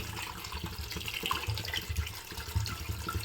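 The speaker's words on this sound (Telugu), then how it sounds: "ముక్కలన్నీ మునిగే వరకు వేసుకుందాం వాటర్." Water poured into a pot of Hyderabad-style goat head curry gives a continuous close splashing, gurgling flow with small drips, steady and moderately loud, with no voices.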